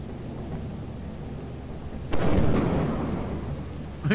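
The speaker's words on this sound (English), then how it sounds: "But just remember that it's storming, so watch out for lightning." Thunder rolls during a storm in Lethal Company: a low rumbling backdrop erupts midway into a sudden loud crack and boom that slowly decays, with another strike starting at the very end.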